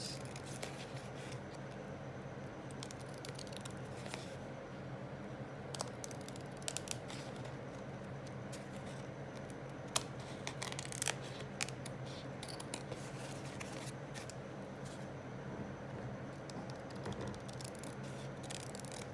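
Scissors trimming paper for a craft project, repeated crisp snipping cuts in irregular bursts, close and fairly quiet, with faint paper rustling between cuts and no talking.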